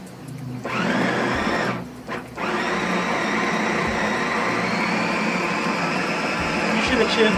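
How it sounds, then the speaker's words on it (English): A food processor grinds ingredients for schnitzel with a loud, continuous whirring motor, briefly stopping twice early on before running steadily to the end. "Put it in a food processor."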